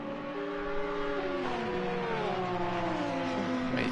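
Ferrari, Porsche and Audi race cars thunder around Monza in a racing video game, engines loud and close with rising and falling pitch as they accelerate and shift, a continuous roar with no voices.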